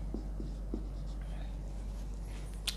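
Pen writing on a board during a physics lecture on fluid pressure, a few faint scratchy strokes early, then a sharper tap near the end, over a steady low hum in a quiet room.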